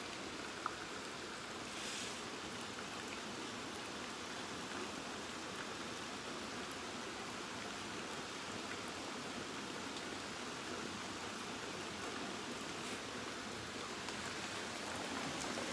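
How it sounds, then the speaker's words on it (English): Steady rain through an open doorway during a power outage, a continuous even hiss of falling water holding at one level throughout with no talk over it. "Yeah, I hear it. Hear the rain."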